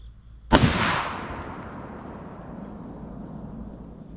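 A single loud rifle shot cracks at an outdoor shooting range, followed by a long echoing rumble that fades slowly across the range, with faint metallic ticks afterward.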